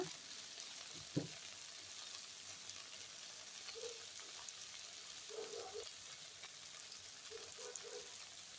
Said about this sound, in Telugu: బెండకాయలను బాగా వేయించిన తర్వాత